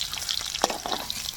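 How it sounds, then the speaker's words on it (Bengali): Paneer pieces fry in hot oil in a pan, giving a steady close crackling sizzle with a few sharper pops and spits, and no talking. "বাকি পনিরগুলো ভাজা হয়ে গেছে"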